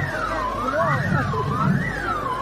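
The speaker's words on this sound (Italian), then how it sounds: "Ma non si può spaccare la sirena?" Wailing siren at a live rap concert, its loud tone rising and falling in slow sweeps over a low, rumbling crowd and stage background, steady throughout.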